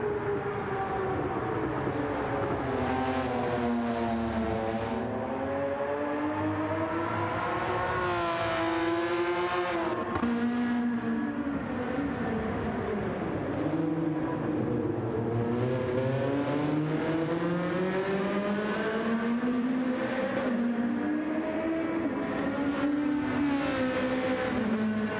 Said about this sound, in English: That Porsche Cayman is fast.